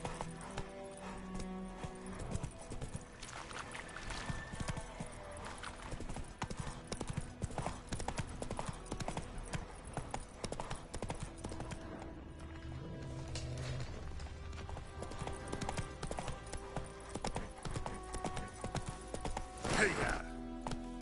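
Roach the horse gallops in Witcher 3, a steady rapid clip-clop of hooves running throughout, loud and close over game music and ambience, with a brief voice urging it on.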